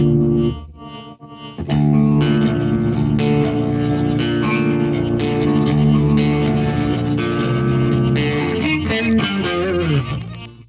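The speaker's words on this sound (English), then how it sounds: "I want it drenched in some reverb and delay" A distorted electric guitar riff played through a Tone Master Pro, soaked in reverb and echoing delay, full and sustained, with repeating trails washing behind the notes after a brief quiet start.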